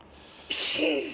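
A single sharp human sneeze, close and fairly loud, bursts out after a short quiet intake of breath, with outdoor ambience behind it.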